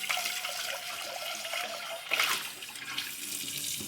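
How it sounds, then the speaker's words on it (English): Hot water runs from a kitchen tap into a pot, a bright steady rush with a brief louder splash partway through as the flow shifts, heard close and without any talk. "Alright, we're all the way on hot water. Let's fill this sucker up."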